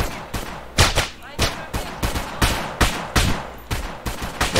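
Guards in GTA fire their guns in a steady run of sharp shots, roughly a dozen evenly spaced cracks over a few seconds, loud and close with a faint low rumble between them.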